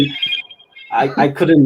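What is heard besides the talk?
phone ringtone ping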